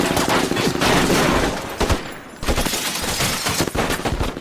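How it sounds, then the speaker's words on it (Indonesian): Film shootout with dense bursts of gunfire, rapid overlapping shots and automatic fire, loud and chaotic with a brief lull before more volleys. "Baku tembak pun terjadi"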